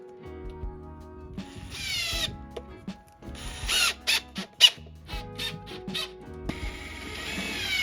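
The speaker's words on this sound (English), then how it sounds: "So here I am drilling holes for the cabinets, both the kitchen ones and also the wall cabinets." A power drill bores holes for campervan kitchen and wall cabinets inside a Sprinter van, with several short, whirring bursts separated by pauses and ratchet-like clicks, fairly close and without talk.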